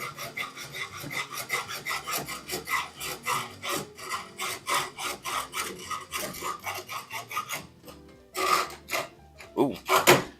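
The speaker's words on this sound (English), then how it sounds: "a few swipes with the file will take off the burr is generally a good idea" A hand file rasping a burr off a threaded blade in a blacksmithing shop, rapid repeated scraping strokes in quick rhythm, close and fairly loud, with a brief pause before a few final swipes.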